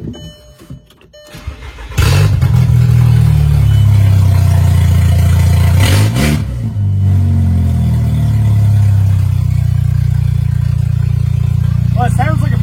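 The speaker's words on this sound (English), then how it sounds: "it sounds like a four-cylinder with no exhaust" A car's four-cylinder engine with no exhaust cranks and catches, then runs loud and close at a rough, raw idle with a brief dip and surge partway through.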